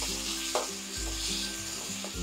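Tomato puree stirred in a frying pan while cooking dhaba-style paneer masala gives a steady, close sizzle, with a few soft scrapes of the spoon across the pan.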